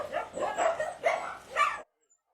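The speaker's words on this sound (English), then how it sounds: "A lot of dogs." Dogs in a kennel bark in a quick series of four sharp, close barks, then fall silent.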